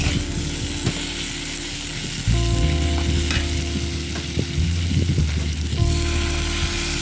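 Fried shrimp tipped into a pan of frying bitter gourd and potatoes; a loud, steady sizzle jumps up as they go in, with stirring scrapes running through it.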